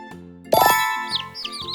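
A chick gives a few thin, high peeps, fairly faint, after a short rattling sound, with quiet rhythmic music underneath.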